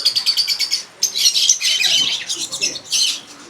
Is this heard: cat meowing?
no